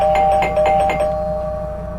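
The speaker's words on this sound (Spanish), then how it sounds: "el timbre del exterior de nuevo volvió a sonar" An outside doorbell rings with a quick series of bright chiming dings, then the tone fades away into a low steady hum, loud and close with no voices.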